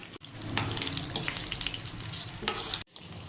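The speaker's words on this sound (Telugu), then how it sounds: "బాండీలో కొంచెం ఆయిల్ వేసుకొని ఇట్లా పోపు దినుసులు వేసుకోవాలి" Seasoning spices sizzle in a little oil in a kadai for a ridge gourd peel chutney, a steady broadband crackle with a few louder bursts, close and continuous, with no voices.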